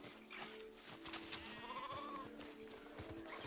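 Sheep bleating in LEGO Fortnite, a few wavering bleats heard over steady game background sound and soft clicks, moderately close.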